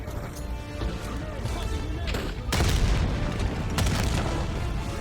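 A grenade blast in the video game Call of Duty Black Ops 6, a heavy booming explosion amid a dense, loud battle din with crashing impacts and a second burst shortly after.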